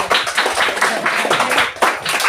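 Steady applause from a crowd, continuous clapping filling the whole moment at close range.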